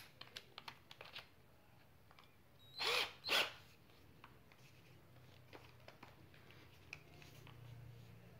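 A CR Ferramentas QFC1012-25N 12 V cordless screwdriver whirs in two short bursts, close and clear, between scattered small clicks and handling taps.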